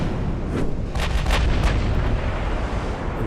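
Naval gunfire from cruisers in the naval strategy game Ultimate Admiral: Dreadnoughts, a cluster of several deep booming shots in quick succession over a constant low rumble of battle ambience.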